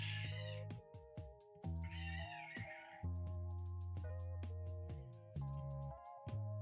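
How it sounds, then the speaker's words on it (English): Two cats fighting, with loud, drawn-out yowling meows and caterwauls that rise and fall in repeated overlapping cries, close and dominant throughout. "I think there's 2 cats fighting."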